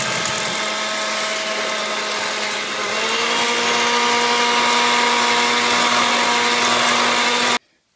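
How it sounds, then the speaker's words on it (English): An electric hand mixer beats egg yolks with sugar, a loud steady whirring drone that shifts slightly in pitch partway through and then cuts off abruptly at the end. "I'm going to add the sugar to the egg yolk and then use the mixer to mix it in"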